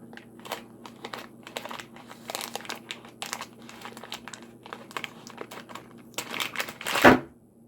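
Crisp snipping of scissors through plastic cookie-dough packaging in quick irregular bursts, close by, with crinkling, ending in a louder crunchy cut.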